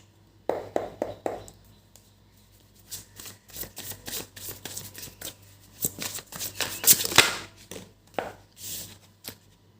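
Tarot cards are shuffled at close range ahead of a reading, giving a long run of riffling, flicking card sounds in quick uneven bursts, alone with no speech over them.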